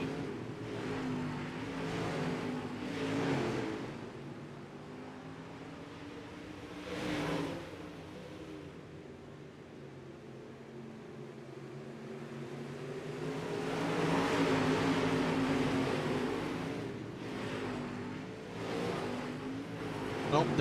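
Race cars drag race down the front straightaway on a dirt track, engines roaring and swelling as they pass at a distance, with a commentator talking over the continuous motor noise throughout.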